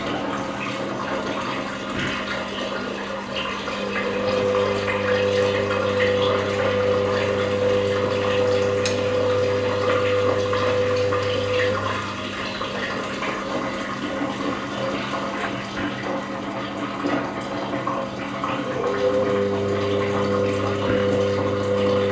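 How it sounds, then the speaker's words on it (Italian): A Zerowatt Spaziozero 062 washing machine's drain pump hums steadily with gushing, draining water from the third rinse, cycling on and off over a long stretch, close and continuous. "Scarico dell'acqua del terzo risciacquo."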